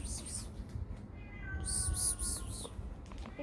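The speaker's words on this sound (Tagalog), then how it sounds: "I think I heard a cat." A cat outdoors meows several times in a row, moderately close, with a rhythmic series of calls standing out over steady background noise.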